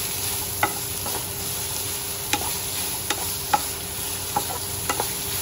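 Chopped vegetables frying for bhaji in a pan, a steady close sizzle with sharp spatula taps scattered irregularly across it.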